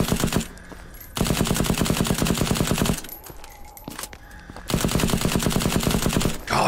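Loud, rapid automatic gunfire from a gun in a video game, sustained bursts separated by short pauses, close and dominant.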